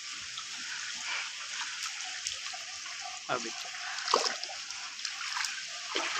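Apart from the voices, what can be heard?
rainwater standing and splashing on a gurdwara roof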